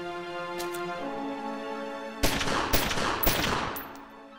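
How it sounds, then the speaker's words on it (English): Gunshots from the video game Omerta City of Gangsters break in after a stretch of tonal music, a quick cluster of sharp cracks repeating over about two seconds, moderately loud with the music continuing underneath. "I'm just gonna shoot that."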